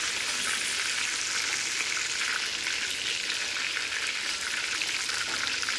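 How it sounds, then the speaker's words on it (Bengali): Pieces of chicken frying in hot oil give a steady, loud sizzle with a crackling hiss that carries evenly throughout, with no voices. "এতগুলো মাংস এখন ভাজবো"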